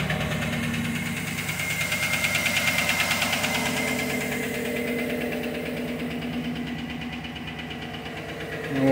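A car engine with a failed AFM lifter runs at a steady idle with a rough, rhythmic knocking vibration throughout, close and fairly loud.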